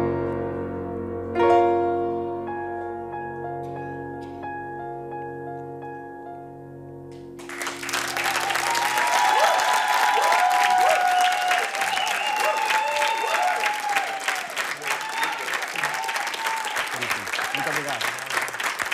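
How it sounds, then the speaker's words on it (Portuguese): A sung and played ending fades out, then a late-night television studio audience breaks into loud, sustained applause with cheering mixed in, continuing strongly to the close. "Esse aplauso mais forte!"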